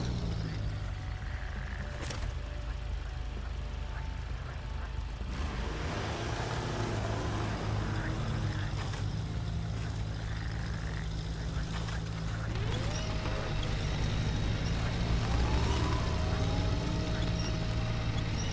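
A heavy off-road truck in SnowRunner grinds steadily while its winch slowly drags a load, a constant low engine drone with a rising whine that continues without a break.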